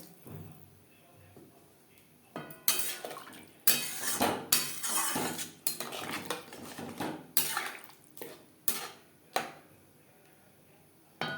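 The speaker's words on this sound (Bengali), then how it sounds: "জল কতটা অ্যাড করবেন সেটা সম্পূর্ণ নির্ভর করছে আপনার উপর।" Water is poured into a pot of eggplant and chela fish curry, with a soft trickle under repeated close clinks and clatters of metal cookware. The sound is fairly quiet.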